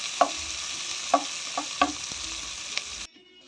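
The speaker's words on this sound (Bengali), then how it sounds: "এগুলো দিয়ে এবার ভালো করে ব্রাউন করে ফ্রাই করে নেব" Onion, garlic and green chili fry in a pan for a hilsa-head taro-leaf dish, giving a steady close sizzle with a handful of sharp spatula clinks scattered over it before it cuts off abruptly.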